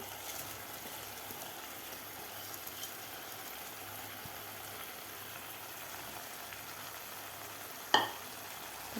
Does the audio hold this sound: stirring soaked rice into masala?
yes